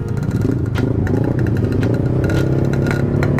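Close, loud motorcycle engine of a custom Kinoy bike idles to warm up, a steady buzzing putter with rhythmic pulses and occasional sharper crackles; no speech.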